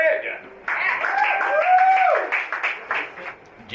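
Live comedy-club crowd claps for a comedian, a short burst of applause that swells then thins out, with someone talking over it.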